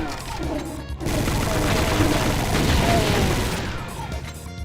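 Gunfire from chain gunners and shotgun-wielding enemies in the video game Doom 2, a dense sustained barrage of overlapping shots and bursts that swells after a brief lead-in and fades near the end.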